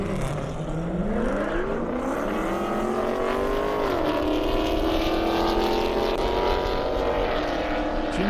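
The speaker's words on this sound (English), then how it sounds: "Jim Quinn, Corvette Z06 getting ready to launch right there" Corvette Z06 at an airstrip drag race, engine loud and continuous with rising harmonic sweeps as it revs and climbs through gears, a steady roar throughout with no talk.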